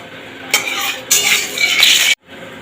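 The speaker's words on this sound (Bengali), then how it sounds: "এবার পরিমাণ মতন সর্ষের তেল দিয়ে দেবো ফোড়ন দেওয়ার জন্য" Mustard oil poured and heating in a pan for tempering in the making of biulir dal, a steady close hiss and crackle with a few louder surges and light metallic scrapes, ending in an abrupt cut-off.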